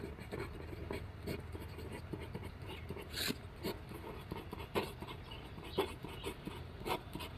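Pen or pencil scratches across paper while a maths question is written out by hand, a steady soft scraping with brief strokes and taps, close and quiet, with no talking.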